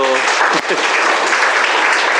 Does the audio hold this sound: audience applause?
yes